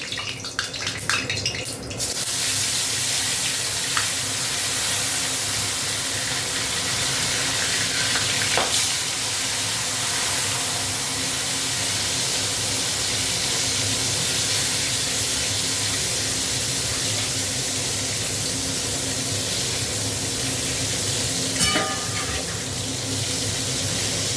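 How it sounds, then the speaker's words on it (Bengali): Spiny gourd rubbed with salt and turmeric frying in hot oil, giving a steady loud sizzle that runs unbroken through the whole stretch with a few faint clinks, and nobody talks. "এবার এইখানে একটু ভাজাটা করে নেবো, নিলে হয়ে যাবে।"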